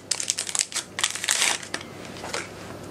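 Decorative paper wrapping on a box gets crinkled and pulled off by hand, close and crisp, a series of rustling crumples that soften toward the end.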